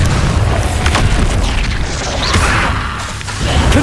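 Bombarda spell explosions in the Hogwarts Legacy video game, loud booming blasts amid continuous heavy rumbling combat noise with whooshing effects throughout.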